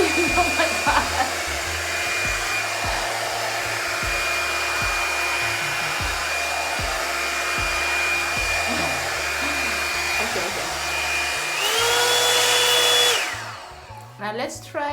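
An EZ Detangler blow dryer runs continuously with a steady whine and airy roar while drying natural 4C hair, then switches setting near the end, its pitch rising before it cuts off.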